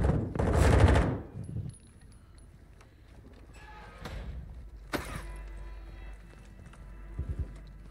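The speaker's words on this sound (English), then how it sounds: "You are taking effective fire." Gunfire in the Call of Duty DMZ video game: a loud, close opening burst of shots, then quieter isolated bangs and a short rattling trio of shots near the end, with faint game noise in between.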